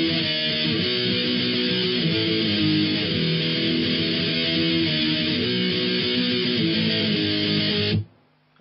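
Electric guitar power chords hammer out the intro riff in a loud, sustained, driving stream that cuts off abruptly near the end, with no talking.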